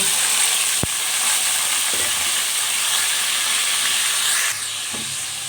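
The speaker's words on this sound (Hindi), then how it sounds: "लहसुन अदरक को हमने सौते कर लिया है और अब हम इसमें चिकन ऐड कर देंगे" Chicken pieces sizzle in a karahi of sautéed garlic and ginger, a loud, steady hiss of frying oil with a sharp clack early on and a few soft stirring scrapes, no voices over it.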